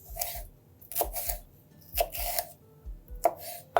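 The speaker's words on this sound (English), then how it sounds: "And now super fine chop." A knife finely chops a deseeded jalapeno on a cutting board in a kitchen, giving four or five crisp, close, separate thwacks spaced roughly a second apart, with no talk.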